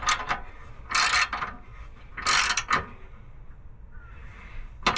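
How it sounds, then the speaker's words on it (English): A ratchet tightens a clamp in short bursts of rapid clicking, three main runs of sharp, close pawl clicks separated by quiet pauses, with a faint click at the end. "Tighten this clamp back up"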